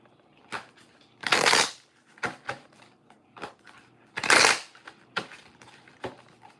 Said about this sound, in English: trying to make sure I shuffle the cards up